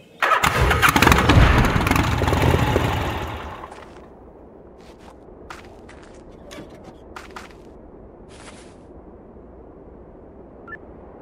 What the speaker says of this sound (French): Je vais chercher la moto.